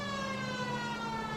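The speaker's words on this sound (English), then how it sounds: "Running the loop with the siren." A police car siren in the LA Noire video game wails steadily and loudly, a continuous tonal whine filling the moment with no talking over it.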